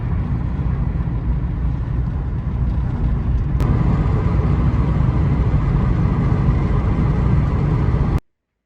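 A used Subaru car drives along with a steady low engine and road rumble heard from inside the cabin, continuous and fairly loud until it cuts off abruptly near the end.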